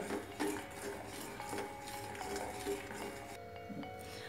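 A spoon stirs a kulfi milk base in a pot over medium heat, giving faint, repeated metallic scrapes and light clinks against the pot in an irregular rhythm, with no voices.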